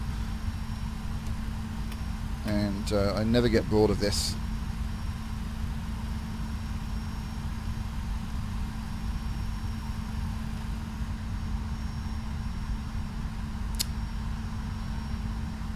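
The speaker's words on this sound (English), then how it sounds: "listen to these engines as we power up" Simulated aircraft engines in X-Plane 11 hold a steady, loud low drone throughout, with a brief burst of a voice talking over it early on.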